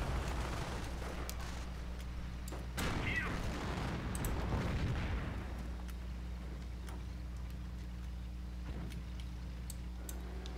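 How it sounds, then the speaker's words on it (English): A single deep mortar shot thumps out in the Company of Heroes strategy game, a low boom near the three-second mark that rumbles and fades over steady background hum. "some mortar firing off"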